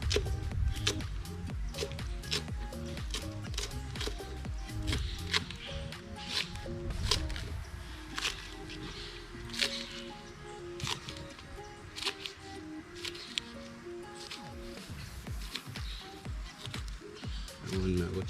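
Conch being washed and cut up beside a river, with scattered wet squishing, scraping and knocking sounds from handling close by, under an ongoing murmur of voices and outdoor background.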